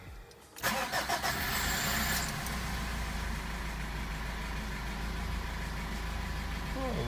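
A 2009 Subaru Impreza engine cranks and catches, then settles into a steady, loud idle close by after a fresh battery change, running evenly to the end.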